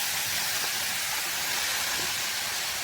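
Shredded cabbage frying in hot oil in a wok with spices gives a loud, steady, hissing sizzle that holds without a break from start to finish, with no voices.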